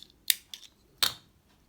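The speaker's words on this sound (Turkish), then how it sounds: "bir zincir çekip hemen burada ipimi kesiyorum" Scissors snip through crochet thread in three short, crisp cuts, the last the loudest, close up with nothing else heard.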